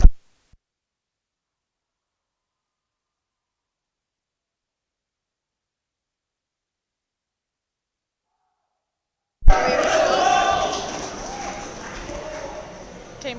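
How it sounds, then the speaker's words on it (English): Before the Oxford match, the Cambridge fencing team gives its pre-match cheer at the varsity match. Long silence breaks into a sudden loud group burst of shouting with rhythmic stomping or clapping, which trails off over the last few seconds. "Cambridge just doing their little cheer beforehand."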